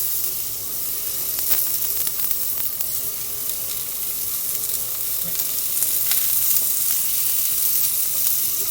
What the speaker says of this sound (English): you can hear those sizzling away already